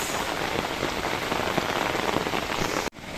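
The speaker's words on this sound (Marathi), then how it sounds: "जोरदार असा पावसाची सुरुवात झालेली आहे" Heavy rain pours down steadily near a waterfall, a dense hiss of drops on surfaces close by, cutting off abruptly near the end.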